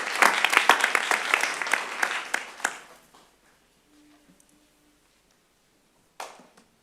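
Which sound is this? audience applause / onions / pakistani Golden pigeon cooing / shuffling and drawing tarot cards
audience applause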